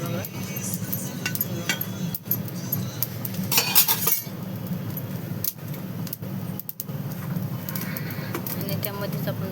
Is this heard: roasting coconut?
yes